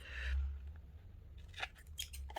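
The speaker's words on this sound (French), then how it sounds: "ça coupe pas aussi bien que mes super ciseaux" Sharp snips of household scissors cutting paper, close up, a few quick cuts over a low background hum.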